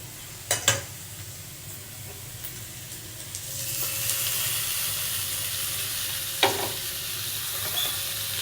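Capsicum and tomato hit a hot pan for veg chowmein, a couple of sharp clunks followed by a swelling, steady sizzle and frying hiss, close up, with a later scrape of stirring and no voices.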